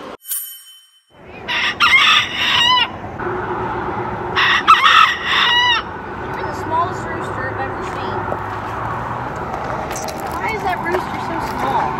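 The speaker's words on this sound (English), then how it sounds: "The rooster crows." A rooster crows twice in loud, close bursts early on, over steady outdoor background noise with faint clucking and later distant bird calls; people may be talking softly in the background.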